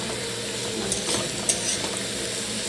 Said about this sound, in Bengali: এই যে এখানে আলু ভাজা হচ্ছে